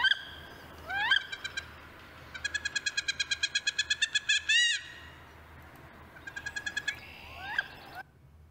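An owl gives its 'who cooks for you' call: rapid rhythmic runs of hooting, chattering notes in several bursts, close and clear against a quiet background hiss.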